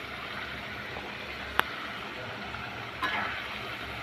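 A Chittagong-style curry of bean seeds, eggplant and dried ribbonfish sizzles steadily in the pot as the lid comes off, a continuous close frying hiss punctuated by a sharp metallic clink and a later lid clatter.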